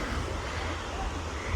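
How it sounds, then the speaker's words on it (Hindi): A river flows at Lachhiwala near Dehradun, its steady broadband rush of water filling the scene at a close, even level, mixed with some wind noise. "ये देखो कितनी प्यारी रिवर है"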